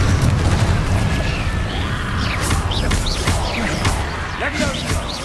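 Spell blasts and explosions go off in a Hogwarts Legacy battle as a fiery curse is cast repeatedly, booming crashes and bursts stacking over a dense, continuous rumble of combat effects.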